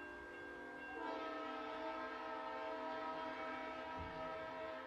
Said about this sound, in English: I live next to train tracks that blow their horn in the middle of the night